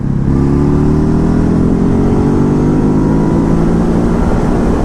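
A loud 2019 Ducati Hypermotard 950 engine holds a steady, buzzing high rev around 4,000 RPM, its pitch creeping slowly upward with constant roaring wind noise.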